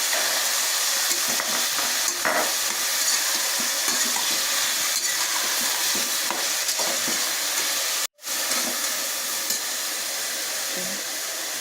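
Potatoes tumble into a pan of frying pav bhaji vegetables with cauliflower, giving a steady close sizzle and hiss with soft stirring scrapes, broken by a brief cut to silence.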